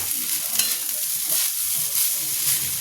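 Soaked rice coated with salt, turmeric and ghee is stir-fried in a pan, giving a continuous close sizzle with soft scraping and stirring throughout.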